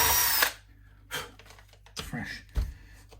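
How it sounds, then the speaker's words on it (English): A power drill boring a pilot hole into a Fender guitar neck for a partscaster build: a loud whirring burst at the start, then several short, stop-start bursts of drilling close to the microphone. "I'm just getting this drill to the right length to do the pilot hole."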